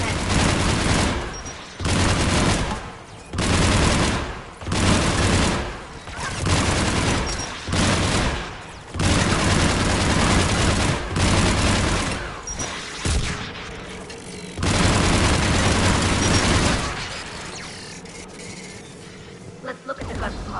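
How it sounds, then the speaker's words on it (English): Repeated bursts of heavy anti-aircraft cannon fire from Geth emplacements in Mass Effect Legendary, loud and rhythmic with short pauses between volleys, game voices faintly underneath before the firing fades out near the end. "The Geth anti-aircraft guns are ahead."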